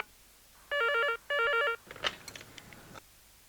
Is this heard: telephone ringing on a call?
yes